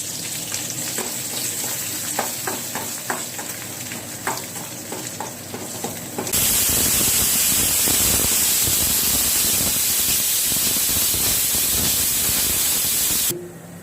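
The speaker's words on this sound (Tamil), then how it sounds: "அதனால அதை நல்லா ஆயிலில் லைட்டாக போட்டு வதக்கிடலாம்." Green chillies sauté in oil in a pan for a Saamai pongal, a steady close sizzle with scraping stirs that jumps to a louder, fuller frying hiss halfway through and holds until the end, with no talking.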